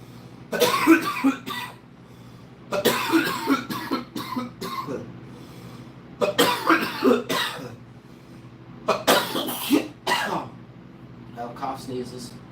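Repeated coughs in short bursts, several close clusters spread across the span with pauses between, near and fairly loud.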